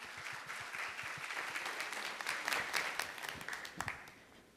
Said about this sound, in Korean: 역시 큰 박수로 환영해 주시기 바라겠습니다